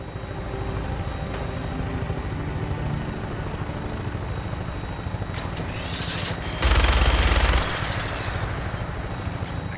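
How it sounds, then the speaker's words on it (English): A minigun mounted on an aircraft in the video game Fallout 4 fires one sustained, roaring burst of about a second over a constant loud helicopter-like engine drone. "minigun in front of you is loaded and ready to fire"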